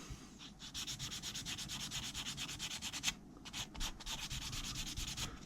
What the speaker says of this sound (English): good thing about these sanding sponges are that because you can, they're pliable